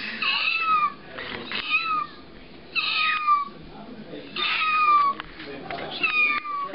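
A human voice imitates kitten meows, giving four or five short, high, wavering mews in a row with brief pauses between them.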